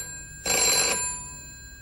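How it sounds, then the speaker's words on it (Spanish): A telephone bell rings once in a short, bright burst lasting about half a second, then fades into a quiet room during a staged call that turns out to be a wrong number. "Imagínese que usted es la mujer que contesta el teléfono."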